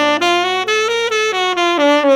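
Guitar plays an augmented scale over a held minor chord, crisp individual notes in a steady rapid sequence with a low sustained chord underneath, loud and close with no talking.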